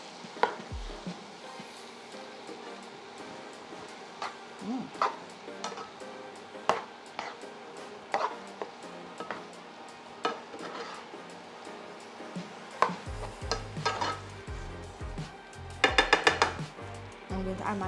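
Vegan ackee and saltfish is stirred in a pan, with a utensil clinking and scraping against the pan in irregular taps and a denser burst of clatter near the end, fairly quiet and close.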